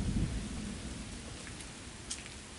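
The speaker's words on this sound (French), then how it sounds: "Enfin, il pleut!" Steady rain falls outdoors as a continuous soft hiss, fairly close, with a low rumble at the start and no voices.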